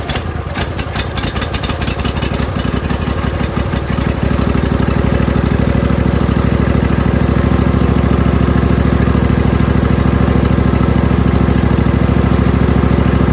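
A John Deere Z225 zero-turn mower's 20 hp Briggs V-twin runs on its own off choke, uneven and pulsing at first before settling into a loud, steady idle close by.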